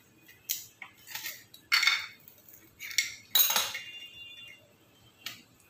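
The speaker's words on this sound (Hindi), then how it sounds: "यहाँ पहले हम इसके कॉर्नर्स काट लेते हैं जिससे कि एक इवन शेप हमारे आम पापड़ की आ जाए।" A knife cutting the corners of a sheet of homemade mango papad (mango fruit leather): a series of short, crisp clinks and scrapes of metal on a plate, spaced irregularly, close and fairly quiet, with no talking.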